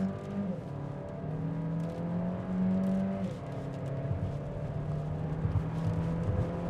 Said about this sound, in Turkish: Spor moda geçiyor o zaman bir kalkış yapalım